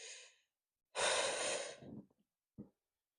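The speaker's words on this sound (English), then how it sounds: "breathe in." Deep breathing during a bear plank core exercise: a brief exhale, a pause, then a long forceful breath out followed by short trailing puffs and a final small breath, close and fairly quiet with no talking.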